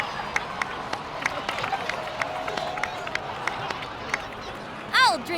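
Crowd applause in Genshin Impact, with scattered claps and cheering, a steady wash of clapping throughout, with a brief bright chime near the end.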